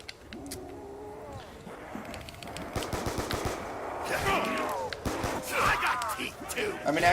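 Game gunfire from Black Ops 2 Zombies on the Die Rise map, an MP5 firing short rapid bursts amid zombie growls and effects, with someone talking over much of it.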